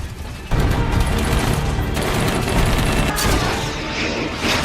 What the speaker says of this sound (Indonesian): menembak dengan membabi buta tanpa ada pandang bulu